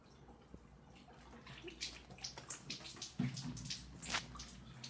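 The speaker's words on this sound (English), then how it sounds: "Inject enough water into the machine." Distilled water is poured into the tank of an 808nm diode laser hair removal machine, giving a faint, continuous trickling and splashing with soft drips, quiet and close.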